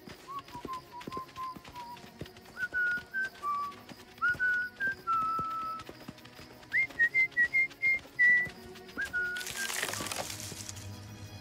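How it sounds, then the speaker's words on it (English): Cartoon whistling from Strawberry Shortcake, a bright tuneful melody of short sliding notes that rises in pitch, played over soft background music and ending in a sudden crinkling burst. "I don't hear the whistling anymore."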